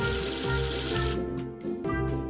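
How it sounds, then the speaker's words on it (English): Water runs in a kids' video game as soap is rinsed away, a bright gushing stream over background music that cuts off partway, leaving the music alone. "Wash away the soap with water."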